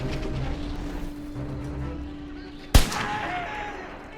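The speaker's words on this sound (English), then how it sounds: "They got recoilless rifled as why." A single sharp recoilless rifle blast cracks out in a war video game, a sudden loud boom with a ringing tail, preceded by a low rumbling battlefield backdrop.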